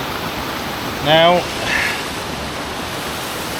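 Waterfall at Nant Melyn pouring behind a bridge, a steady broadband rush of falling water that holds evenly throughout, with a man's brief spoken word over it.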